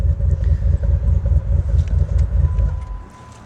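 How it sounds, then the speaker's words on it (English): A Jeep JK with an SRT8 Hemi engine conversion, Dana 60 Pro Rock axles and 5.5-inch lift cruising on a freeway, its exhaust a steady low rumble that stays moderate in volume, easing off slightly at the end. "Going down the freeway, the exhaust isn't overly loud."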